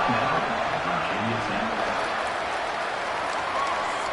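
A large stadium crowd roars continuously, a loud, sustained wall of cheering and noise with no break.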